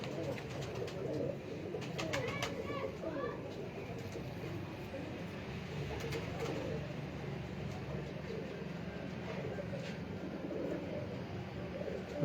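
Pigeons coo steadily while being handled, the calls blending into a dense, noisy background with murmuring voices throughout.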